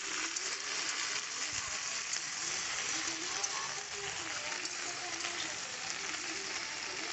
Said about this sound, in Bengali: লবণ দিয়ে ঢেঁড়সটাকে ভেজে নিচ্ছি